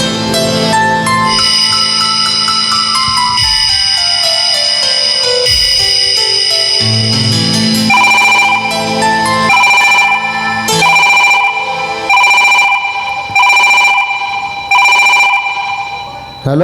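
A telephone rings repeatedly in a steady pattern of loud bursts over a musical background, with speech partly underneath.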